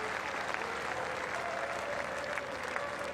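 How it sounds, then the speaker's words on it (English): A crowd at Hagley Oval applauds a half century in a cricket Test match. Steady, fairly distant clapping carries on throughout without breaking. "The crowd in his support here at Hagley Oval."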